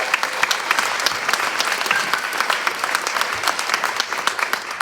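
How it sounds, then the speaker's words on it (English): A pageant audience applauds steadily, dense clapping at an even level throughout with no talking over it. "Let's give a round of applause."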